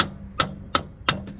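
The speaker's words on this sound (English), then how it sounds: "Man, you get in the front and give it a whack." Three sharp, close strikes of a wooden hammer ring against the rear air suspension of a Kodiak Topkick truck, spaced at a steady rhythm, with faint ticking knocks in between.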